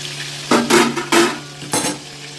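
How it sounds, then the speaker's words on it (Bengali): Pangas fish frying in a covered pan, a steady low sizzle under a hum with several short scraping and clattering bursts from the pan or utensil, no speech. "ঢাকা দিয়ে দিলাম ভাজাটা হোক"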